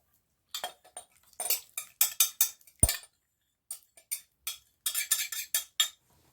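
A knife clinks and scrapes against a bowl while scone dough is mixed, a run of quick, irregular taps and one sharper knock, close and crisp against silence.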